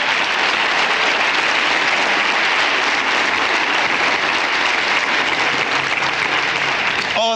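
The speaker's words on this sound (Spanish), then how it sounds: "Denle otro aplauso al Señor, yo estoy contento." A church congregation claps, loud, dense applause that holds steady for several seconds without pause.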